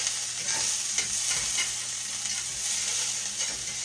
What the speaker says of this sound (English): You're supposed to saute on low, but I'm in a hurry.